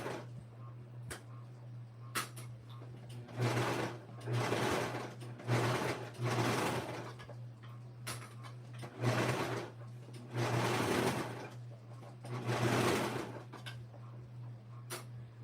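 A serger overlocks and trims fabric for a child's dress, running in several steady bursts of a few seconds each with brief pauses between, a constant low motor hum underneath throughout.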